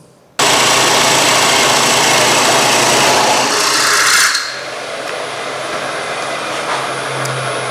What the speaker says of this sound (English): And we're going to cut our next bowl.